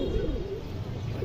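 A female Indian high-flyer pigeon of a silver bloodline coos softly, a low, murmuring call rolling steadily for a moment at close range.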